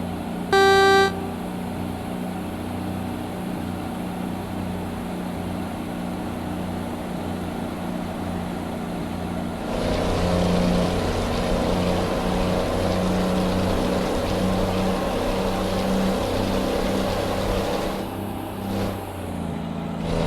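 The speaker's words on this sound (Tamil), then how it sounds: "ஏதோ மண்ணாளி தூக்கிட்டு போற மாதிரி இருக்கு வண்டி சவுண்டு." Truck engine in Euro Truck Simulator 2 drones steadily at low pitch, a simulated heavy rig hauling a wood chipper, with a short horn toot near the start and a louder surge of engine and road noise partway through.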